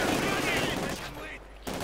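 Gunfire in the Company of Heroes 2 strategy game as Soviet shock troops engage German grenadiers, a dense rattle of rifle and machine-gun shots at close range that breaks off near the end.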